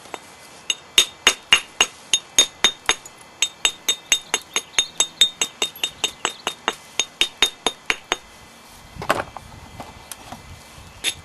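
Sharp percussive strikes flaking a novaculite laurel leaf point, about thirty crisp clicks in a steady rhythm close by, followed by a brief scraping rustle and a final strike.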